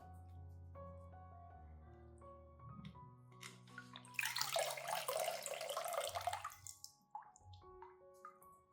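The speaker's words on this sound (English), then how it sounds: "water the plant first" Water is poured onto an orchid plant, a soft close splash and trickle rising after some light drips and handling sounds, then tapering back to quiet drips, faint overall.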